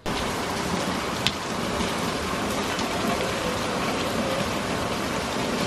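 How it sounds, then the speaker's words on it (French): Heavy rain pours down steadily, a dense unbroken roar of hiss and patter close by, with no voices. "Il pleut comme vache qui pisse"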